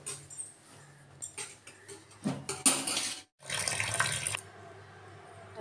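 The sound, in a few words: tap water running while washing rice in the sink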